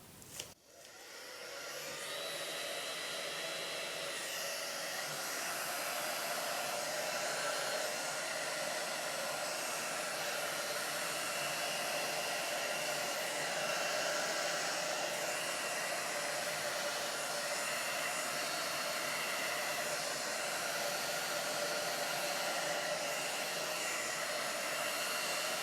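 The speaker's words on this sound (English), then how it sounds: "let's hit it with a hairdryer. Apologies in advance for the noise" A hair dryer runs on its hot setting at low speed, starting with a click and then blowing as a steady, even whoosh that lasts throughout, close and alone.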